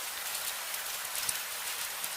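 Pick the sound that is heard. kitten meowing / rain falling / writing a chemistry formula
rain falling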